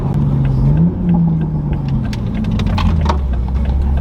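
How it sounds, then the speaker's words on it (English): Toyota Supra accelerating hard, a loud close engine roar rising in pitch through a gear, dipping at a shift, then pulling strongly again with steady rumble throughout. "ain't nothing like a Supra pull in the morning"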